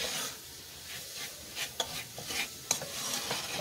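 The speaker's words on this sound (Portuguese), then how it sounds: "só que não pode queimar, tem que mexer rapidinho." A spoon stirs quickly in a pan of coconut cooking in sugar syrup for creamy corn canjica, with soft scraping sweeps, a low sizzle and a few sharp clinks against the pan, close and moderately quiet.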